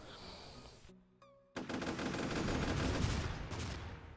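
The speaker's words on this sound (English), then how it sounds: "Wait, how'd the explosion not hit him?" A weapon explosion in the ShellShock Live artillery game: a short blast and electronic tones, then a loud, dense burst of crackling detonations that rolls on and slowly fades.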